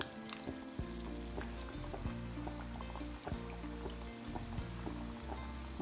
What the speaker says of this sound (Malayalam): ഉണ്ടാക്കി വെച്ച സമോസകൾ ഇത് ഇങ്ങനെ ഓരോന്നോരോന്നായിട്ട് ഇടാം. ഇതിപ്പോൾ നമ്മൾ മൂന്ന് സമോസ ഇതിലേക്ക് എണ്ണയിലേക്ക് ഇട്ടിട്ടുണ്ടല്ലോ.